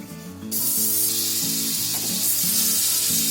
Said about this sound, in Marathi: आता कढईमध्ये आपल्याला 2 चमचे बटर टाकायचं आहे